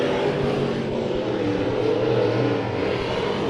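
A race car engine roars steadily and loudly during a dirt-track heat race at Bakersfield Speedway, with sustained revving close by and no gaps.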